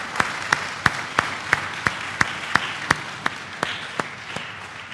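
A church congregation at a Catholic confirmation claps for the young confirmation candidates, steady evenly spaced claps in a slow rhythm that carry over a faint room murmur and fade slightly toward the end.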